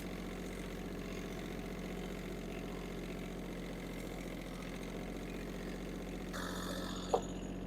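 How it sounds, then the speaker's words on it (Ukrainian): A Yanmar AF-170 mini tractor's diesel engine idles in a steady, even low rumble with mechanical vibration, a brief sharp knock near the end and no talking. "Завівся тракторець чудово."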